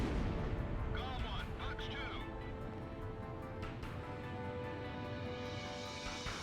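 Anti-aircraft guns firing in Ace Combat Zero, a steady rumbling barrage of flak under jet engine noise and in-game tones, with a voice talking over it.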